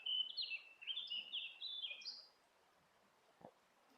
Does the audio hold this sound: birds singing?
yes